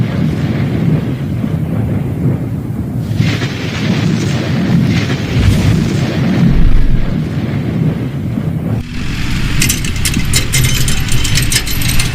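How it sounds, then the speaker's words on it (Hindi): Deep, continuous rumbling of cartoon thunder rolls on for several seconds, loud and unbroken, with a sharper crackling burst of lightning near the end. "ये क्या बादल भी गरज रहे हैं और बिजली भी कड़क रही है"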